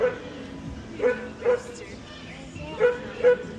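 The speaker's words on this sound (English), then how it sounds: "And a puppy." A puppy gives several short, high yips in a loose series of about five, fairly close, with quiet gaps between them.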